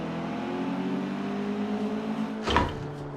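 An in-game Abarth 695 Biposto, the souped-up two-seat hatchback, holds a steady, buzzing engine drone with layered harmonic whine throughout, then a short sharp thump near the end.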